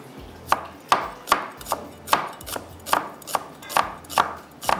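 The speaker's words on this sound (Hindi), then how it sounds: "तो मैं नाइफ़ ले लेती हूँ जिससे हमने इसको कटिंग करना है" Knife slicing an onion on a cutting board, about a dozen crisp, evenly spaced chops, loud and close with nothing else over them.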